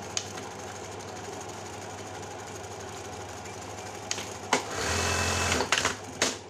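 A Jack buttonhole sewing machine runs steadily with a rapid, even mechanical whir and clatter, close by, ending in a few louder knocks and bursts as it stops and restarts; no talking.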